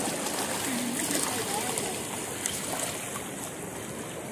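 A creek's cold water flows and churns around a bather, a steady close-up rush with faint splashes throughout.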